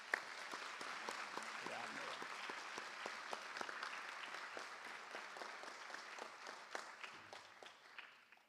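Warm round of applause from an audience at a school board meeting honoring all-region students, a steady patter of many hands, fairly faint and distant throughout.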